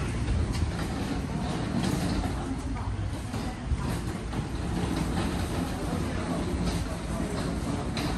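A Singapore MRT train rolling past on its line, a steady loud rumble with rail clatter running the whole time, broad and continuous with faint crowd murmur underneath.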